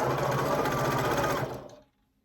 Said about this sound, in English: I'm just going to go ahead and sew that. 1/4 inch is what I use.